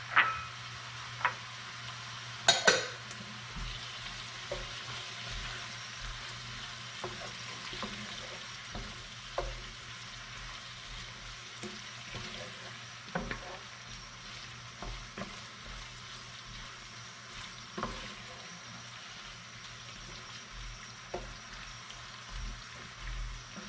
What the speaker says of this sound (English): Now we're gonna add the tomatoes.